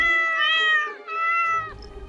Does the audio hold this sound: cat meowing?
yes